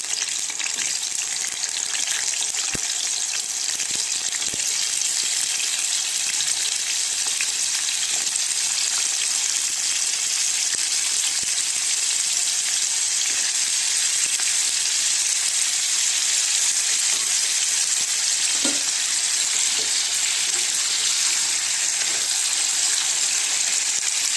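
Potatoes fry in hot oil, giving a steady, dense sizzle with a bright crackling hiss that holds at an even loudness throughout, near and alone, with a few faint clinks of stirring.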